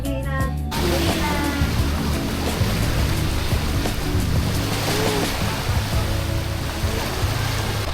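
Steady rushing surf fills the clip, a constant wash of waves breaking on the shore, loud and close, with faint voices now and then.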